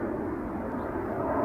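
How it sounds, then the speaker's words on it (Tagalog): An airplane drones overhead outdoors in Virginia, a steady low rumble filling the short stretch with no voices. "Maingay lang ang eroplano."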